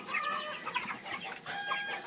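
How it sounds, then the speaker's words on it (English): Barn chickens clucking agitatedly in a coop at night, several overlapping squawks and rapid clucks close by, with one brief crow-like call mixed in. "Our barn chickens are all upset about something."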